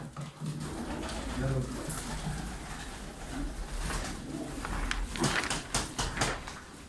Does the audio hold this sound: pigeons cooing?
yes